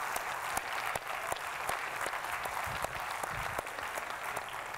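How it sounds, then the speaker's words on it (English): A school district audience applauding an inspirational speaker, steady crowd clapping with distinct individual claps standing out, fairly even throughout. "Another round of applause for Raul Castillo"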